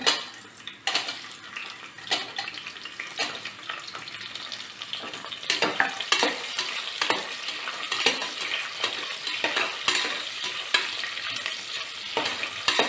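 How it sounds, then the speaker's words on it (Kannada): Onions fry with a constant loud sizzle in a pan while a utensil stirs and scrapes against the metal in irregular clinks and knocks, close up and with no voices. "ಈಗ ಈರುಳ್ಳಿ ಹಾಕ್ತಾ ಇದ್ದೀನಿ"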